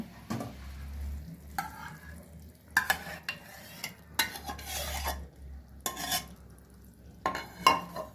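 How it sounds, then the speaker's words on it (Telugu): Cooked dal and tamarind juice go into a pot of boiled mixed vegetables, with a few sharp spoon-on-pot clatters and wet splashing scrapes in separate bursts, close and moderately loud, with a quiet pause midway. "ఇప్పుడు పప్పు చింతపండు రసం వేద్దాం"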